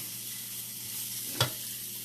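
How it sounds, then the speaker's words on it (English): Thawed ground turkey sizzles steadily in a frying pan, a soft continuous hiss with one brief clatter as it is stirred and broken up. "then it's going to go into my pan to start cooking"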